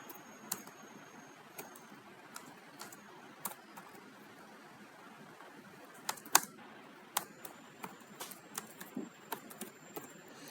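Keys clatter on a computer keyboard in short irregular bursts of light clicks, fairly close and moderately quiet, with brief pauses between runs of typing and no voices.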